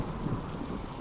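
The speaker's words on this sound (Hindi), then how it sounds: "बारिश इतनी तेज हो रही है कि उड़ भी नहीं पा रहे" Heavy cartoon downpour with rolling thunder fills the moment, a dense continuous roar of rain with a low rumble underneath, loud and close, with no voices.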